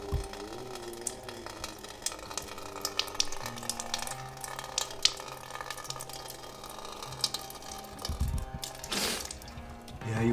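Warm salt water from a lota pouring through the nose during a jala neti nasal rinse, a steady trickling stream with faint splashes under background music, swelling into a louder gush near the end.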